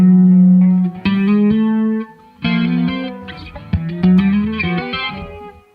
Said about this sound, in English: I got to change to a distortion channel.